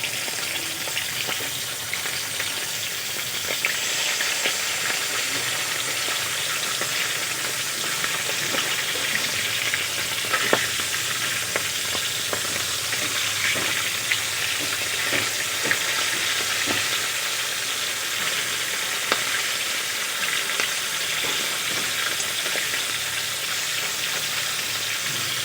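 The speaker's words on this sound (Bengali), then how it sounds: "মাছগুলো আমি উল্টিয়ে পাল্টিয়ে ভালো করে ভেজে নেব।" Pieces of silver carp frying in a pan while being turned over to brown the second side, giving a continuous loud sizzle dotted with crackles and pops throughout, with no one speaking.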